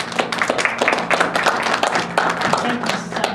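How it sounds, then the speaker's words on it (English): An audience at an academic symposium gives a round of applause, dense clapping close and continuous, with some voices murmuring underneath. "let's give a round of applause"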